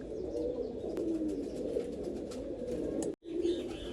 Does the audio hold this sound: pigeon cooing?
yes